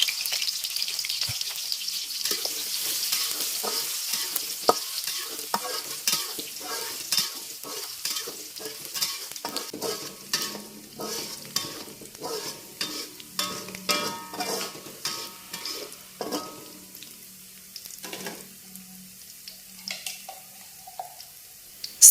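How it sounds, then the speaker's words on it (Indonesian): Sliced shallots frying in hot oil in a wok, crackling and sizzling steadily at close range with scraping stirs and occasional clinks, fading quieter toward the end. "Setelah minyaknya panas, goreng bawang merahnya"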